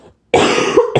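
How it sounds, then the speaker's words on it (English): A single sharp cough from someone with bad allergies, loud and close, followed by a brief second burst after a short pause. "I'm gonna cough real quick because I have really bad allergies"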